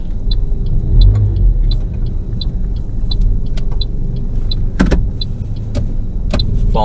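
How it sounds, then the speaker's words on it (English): A car in a driving-test lesson near the Greenslopes test centre rolls slowly and turns left, with a steady low road rumble, a regular ticking indicator and a brief mechanical whirr partway through; no one speaks. "We're going to let the car start rolling, and as it starts rolling, we're going to start turning to the left."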